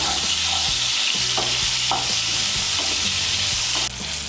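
Large aubergine pieces seasoned with salt and turmeric sizzle loudly in hot oil in a pan, with repeated scraping stirs of a spatula over the constant crackle, no talking.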